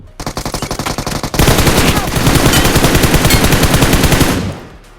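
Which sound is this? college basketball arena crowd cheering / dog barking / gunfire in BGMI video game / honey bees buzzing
gunfire in BGMI video game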